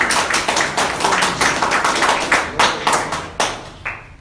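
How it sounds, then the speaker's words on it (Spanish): A church congregation claps loudly and briefly, a fast rush of many hands that thins into a few scattered, separate claps before fading out. "Denle un fuerte aplauso."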